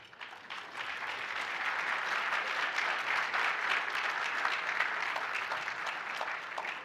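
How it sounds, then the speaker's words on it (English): An audience at a Martin Luther King Jr. breakfast event claps for their leader, with steady, sustained applause swelling after a brief start and going on without pause. "Can we clap our hands for our leader?"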